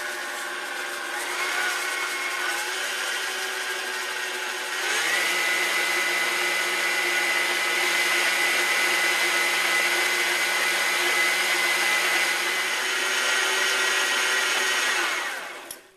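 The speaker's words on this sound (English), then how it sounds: "I'm going to put my paddle on here and lower this down, and I'm going to cream these 2 things together." Stand mixer with a paddle attachment creaming butter and sugar, a steady whirring motor hum that rises in pitch and strength partway through and runs continuously until it cuts off at the end.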